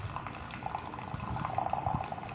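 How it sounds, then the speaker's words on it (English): Hot water poured over black tea leaves in a gongfu teaware vessel to rinse them, a steady close trickle and splash of liquid running throughout with no talk. "This water goes in, water goes out."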